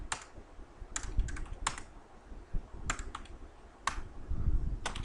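Typing on a computer keyboard, bursts of close, fairly faint key clicks with short pauses, over a low background murmur.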